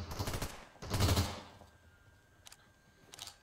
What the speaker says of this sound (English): this FAMAS has horrible recoil